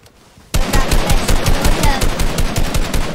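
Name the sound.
gunfire in the video game Fortnite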